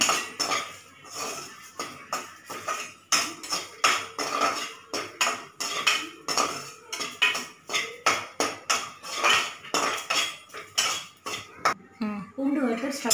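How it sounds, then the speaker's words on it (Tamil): About ten dried red chillies and crushed garlic roast in a pan, heard as steady, rhythmic metallic scraping and clinking of a spatula against the pan, close and continuous throughout. "காஞ்சி மிளகாய் வறுத்துட்ருக்கோம், 10 காஞ்சி மிளகாய் போட்டுருக்கேன்."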